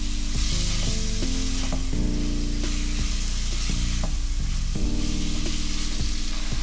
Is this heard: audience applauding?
no